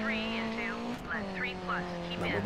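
Racing car engine in the Dirt 3 video game, a steady harmonic drone whose pitch sweeps up and down through gear changes and revs, with someone talking over it throughout.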